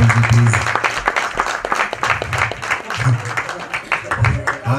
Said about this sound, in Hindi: one of the best actors Mukul Dev ji के लिए जोरदार तालियां हो जाए